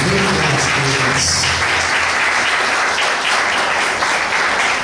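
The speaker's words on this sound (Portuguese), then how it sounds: "Pode aplaudir Jesus." A church congregation applauds during a sermon, giving a loud, continuous roar of many hands clapping that fills the space without break for the full stretch.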